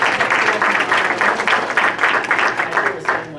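Magic show audience applauding a volunteer, a dense steady wash of many hands clapping, loud and close, tapering slightly at the end.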